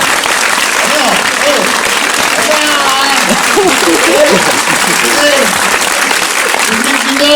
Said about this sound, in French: C'est comme ça qu'on applaudit Julie Delpy